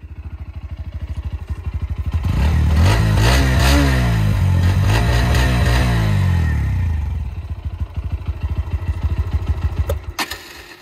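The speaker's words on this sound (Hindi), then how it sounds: "आप सुनते हैं भाई अपना NS125 का एग्जॉस्ट साउंड" A Bajaj Pulsar NS125's underbelly exhaust revs up hard, the engine climbing and falling through loud throaty bursts, then dropping back to a choppy, rapid idle.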